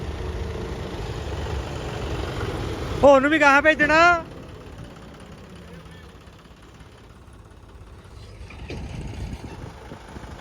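Two tractor engines idle together with a steady, low diesel rumble throughout, and a person briefly speaks over them partway through.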